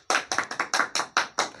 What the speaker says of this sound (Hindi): इसलिए जोरदार ताली बजाया करिए।